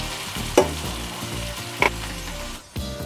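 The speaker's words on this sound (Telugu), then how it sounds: "ఈ ఆయిల్ లో మనకి ప్రాన్స్ బాగా ఫ్రై అవ్వాలి" Prawns fry in oil with salt, turmeric and chilli powder, a continuous close sizzle punctuated by a few louder stirring scrapes of a spoon against the pan.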